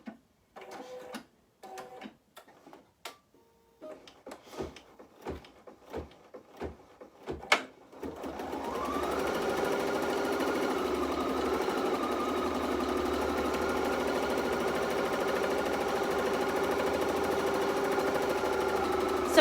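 Embroidery machine stitching a tack-down line starts with a few separate clicks and thumps, then settles into a steady, close, continuous mechanical whirring that runs to the end.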